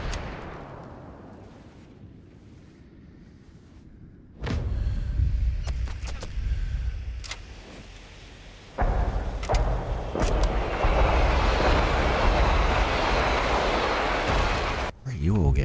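Gunfire in the multiplayer mode of Sniper Elite 5: a quiet stretch gives way to loud, sustained bursts and sharp shot transients, with a sudden cutoff near the end, and a voice talking through it.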